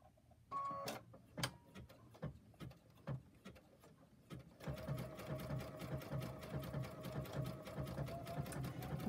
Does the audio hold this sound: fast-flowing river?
no